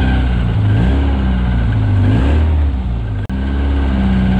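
An MG Midget fitted with a K-series engine drives along, its mid-pitched engine note droning loud and steady from inside the car, with a brief dip near the end.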